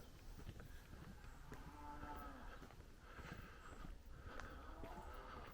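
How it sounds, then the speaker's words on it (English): A cow moos faintly a couple of times in open countryside between Rowlands Gill and Consett, low drawn-out calls over a steady outdoor background. "I think that cow agrees with us, if you can hear it mooing on."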